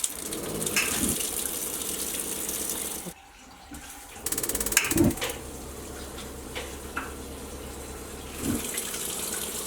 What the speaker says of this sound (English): I'm going to turn it on, and you'll hear the hot water heater ignite